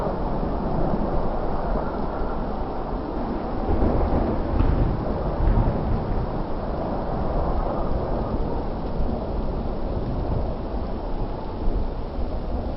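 A thunderstorm with steady heavy rain and deep rolling thunder. The rumble swells and fades continuously for the whole stretch, with no voices.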